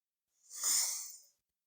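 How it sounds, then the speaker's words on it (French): A single slow, deep exhalation rises and fades as a soft airy breath, close and quiet, with silence before and after. "Fermez les yeux, recentrez-vous et prenez juste 5 grandes respirations."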